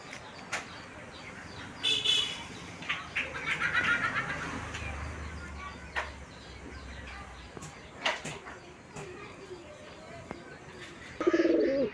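Pigeons, four males and a female, coo faintly outdoors amid soft chirps and light background noise, with a few scattered louder calls.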